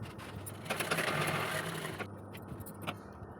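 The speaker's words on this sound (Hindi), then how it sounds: "इस तरह से रखते हुए हमें इसकी सिलाई चला देनी है" A sewing machine runs a steady stitching whir along the side seam of organza fabric for an Anarkali umbrella frock. The motor hum holds close and continuous, then eases off partway through and gives way to a few quieter clicks.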